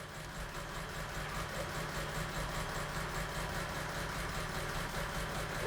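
A CFR octane test engine runs at a steady idle in a lab, an even low rumbling drone with a faint rhythmic pulse, constant and moderately loud throughout.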